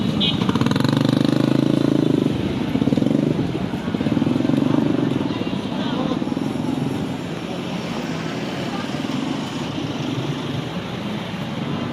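A motorcycle engine runs near a fish port in Malabon, giving a loud steady drone that swells and eases over the first few seconds, then settles to a constant hum with voices and market noise underneath.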